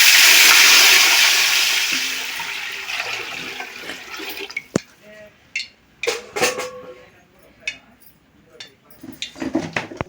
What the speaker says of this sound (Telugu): నానబెట్టుకున్న బియ్యంలోకి ఎసురు ఇన్ని అనేది ఏం లేదు, సగం ఉడికించుకున్నా తీసుకోవాలి కాబట్టి అన్నం నీళ్ళు పోసేస్తాను అందాజుగా